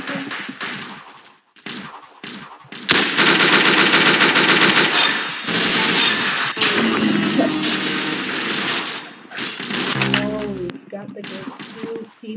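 Rapid automatic gunfire from the online shooter game Arsenal, bursts of loud, dense shots filling most of the stretch, with a few short pauses and brief breaks in between.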